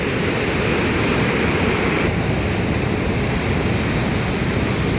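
Steady, loud roar of the Probiy waterfall in Yaremche in the Carpathians, a dense continuous wash of rushing water with no pauses and no voices.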